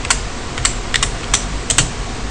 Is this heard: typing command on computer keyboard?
yes